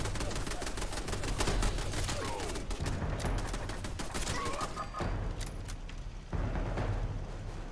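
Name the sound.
gunfire from turrets in the video game Fallout 76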